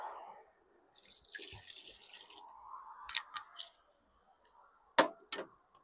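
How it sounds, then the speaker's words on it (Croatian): Water pours into a pot for homemade tomato sauce with onion quarters, a brief splashing stream followed by scattered drips and light clinks of the pot, fairly quiet and close. "Dosut ćemo još malo vode."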